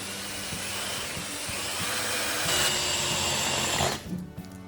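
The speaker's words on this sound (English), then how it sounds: "I'm still mildly nervous about drilling into this." Power drill boring into a metal pedal car tank: a steady, fairly quiet high whine holds for about four seconds, rising slightly in pitch before cutting off, followed by a few faint clunks.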